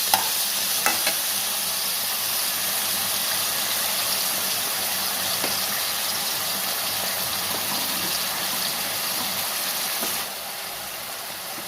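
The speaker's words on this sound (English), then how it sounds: "Now it is on high flame. Fry it." Chicken pieces frying over a high flame for chilli chicken, a steady close hiss and sizzle of hot oil with occasional faint stirring knocks, dropping slightly softer near the end.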